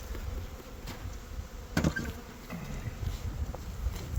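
Honeybees buzz around hive frames in a spring colony during feeding, a steady low drone close by that continues without a break, with a few faint knocks and rustles.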